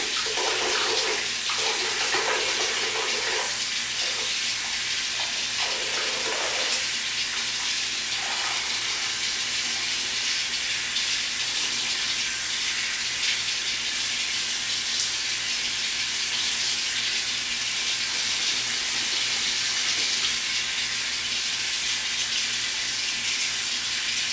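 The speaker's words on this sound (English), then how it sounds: "I drain my sink and I go ahead and I rinse out my extensions to make sure they're nice and rinsed" Sink tap running steadily while hair extensions are rinsed under it, a loud, continuous splashing water rush with faint handling sounds early on.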